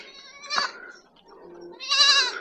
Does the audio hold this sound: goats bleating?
yes